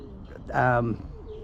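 Pigeons cooing inside a cage, a single rolling coo rising to a moderate level for about half a second, over a low steady background.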